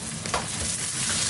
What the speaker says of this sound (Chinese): 把鸡腿外边煎熟，这是能看出来的，基本上就焦黄。